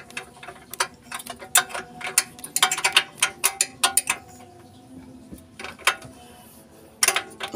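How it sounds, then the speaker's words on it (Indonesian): Ratchet wrench tightening the four bolts on a repair outdoors after rain: bursts of rapid metallic clicking pawl strokes, near and moderately loud, separated by short pauses, with no talk. "tinggal mengunci ketat bautnya."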